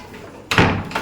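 A house door closing at close range with one loud, abrupt thud and rattle, followed by a softer second knock as it settles, with no talking.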